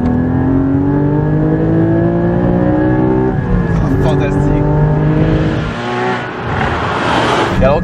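A 2015 Porsche Cayman GT4 (981) engine revs hard and loud, its pitch climbing and dropping through several surges, with a brief dip before roaring up again.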